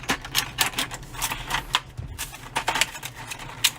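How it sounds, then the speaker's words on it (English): Tape being peeled off a toy display stand for a Machine Robo Bike Robo (Gobots Cy-Kill) figure, a close series of sharp crackling rips and ticks in irregular bursts. "Let's just remove the tape."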